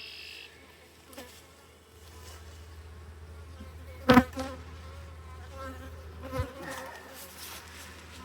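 Honeybees in an opened, swarmed beehive with swarm cells, honey and larvae drone in a steady close buzz, with a few louder bumps and knocks from handling the hive frames.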